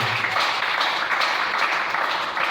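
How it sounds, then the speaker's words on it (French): A church congregation applauds and cheers for the Lord, a dense steady wash of clapping and voices that lasts the whole moment. "Est-ce qu'on peut acclamer le Seigneur?"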